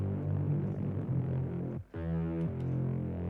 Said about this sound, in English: just grab 2 sine waves, fill the unison up, detune it a little bit.